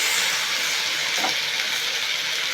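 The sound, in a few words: jute leaves being stirred and sizzling in a pan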